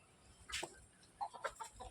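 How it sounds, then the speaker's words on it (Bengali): Farmyard chickens clucking outdoors, a few short soft clucks and calls at moderate distance against quiet background. "মুরগিগুলো দেখো না কী করছে, শুধু মুরগি দেখো।"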